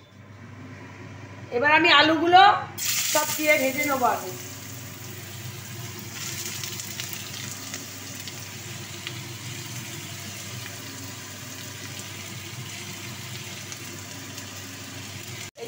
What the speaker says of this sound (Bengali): চিমনিটা ছেড়ে নিই।